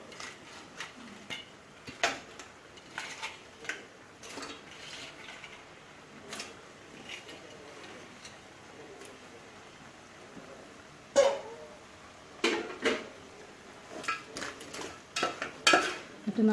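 Washed crab pieces dropped into a pan of Kerala-style curry mix, giving scattered clattering knocks and scrapes with a few sharper clusters near the end, quiet and close with no talk.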